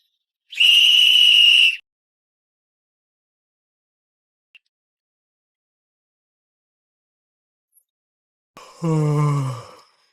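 One long, shrill whistle blast rings out, followed by several seconds of near silence and then a short, falling groan-like sound.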